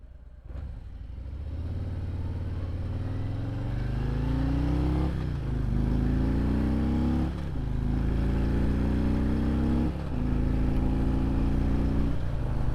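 A motorcycle rides along with heavy wind buffeting a cracked helmet visor, and a close mic catches it. A steady engine drone climbs in pitch through several gear changes, with brief dips between shifts, under constant wind rush.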